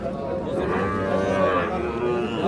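A pair of young Sahiwal bull calves moo at a cattle market in Bangladesh, with long, near, droning calls that overlap one another and fill the whole stretch.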